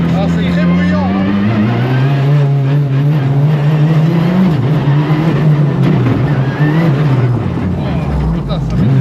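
A rally car driven by Seb Loeb is pushed hard to heat its tires, the engine heard from inside the cabin as a loud, sustained roar with rising and falling revs through gear changes.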